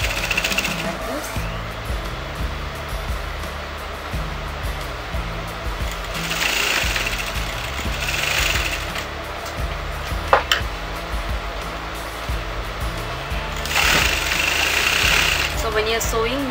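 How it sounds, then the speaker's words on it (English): Sewing machine stitching a quarter-inch seam on a circle-skirt lehenga, a continuous motor hum with bursts of faster stitching, heard under a person talking. "I'm going to sew that in a quarter inch seam allowance"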